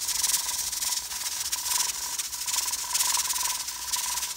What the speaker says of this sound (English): Once the thing gets to rattling, what a lot of people do, you can hear it starting to get louder.